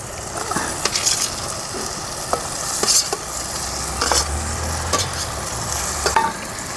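A spoon stirs ridge gourd and potato curry in a pan, with soft scrapes and occasional knocks against the metal over a continuous frying sizzle, recorded close.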